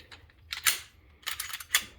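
A PDP-F pistol's trigger is pulled and clicks, several sharp dry clicks in short clusters, close and fairly loud, with no talking.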